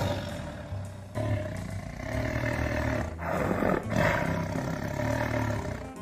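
A person imitates an angry tiger's roar, a long, loud, rasping growl held for several seconds that surges in intensity partway through, with no other sound around it.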